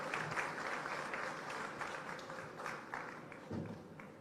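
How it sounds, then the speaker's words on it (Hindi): Crowd applauding to welcome a speaker at a chapter gathering in Hisar, dense continuous clapping from many people that swells and eases slightly but holds for the whole stretch. "आपकी ही तालियों से जोरदार अभिनंदन"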